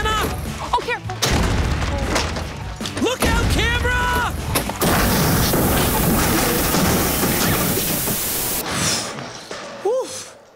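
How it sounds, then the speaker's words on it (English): Loud booming blasts of cannon fire from a castle crash over frantic, high-pitched cartoon voices and shouting, followed by a long, sustained roar of noise. "This cannon's going rogue!"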